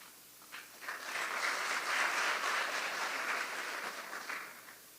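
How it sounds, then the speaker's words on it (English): Audience applause at a grant distribution ceremony, rising quickly into a steady, moderately loud wash of clapping that holds for a few seconds and then slowly tapers. "while they're clapping for you"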